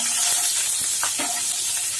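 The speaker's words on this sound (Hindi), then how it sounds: "देखिए इसका तड़का तैयार कर लेंगे।" Curry leaves and large pieces of green chilli sizzle in hot oil for a tempering, giving a steady, loud, close frying hiss with no talking.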